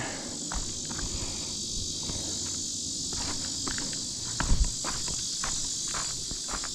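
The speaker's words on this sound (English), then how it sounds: "The cicadas." A steady high-pitched cicada drone fills the background, constant, with scattered soft footsteps and small knocks nearby, at Seneca Rocks, West Virginia, in July.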